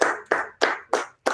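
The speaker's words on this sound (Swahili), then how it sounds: "Pigieni Gadi makofi" A small group claps for a person named Gadi at a home gathering, five sharp bursts of handclaps in a steady rhythm, close and fairly loud with brief gaps between.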